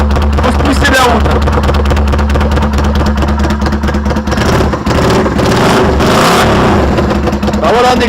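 A Yamaha Virago custom motorcycle engine roars loud and steady at close range, its revving sustained throughout with a people talking over it.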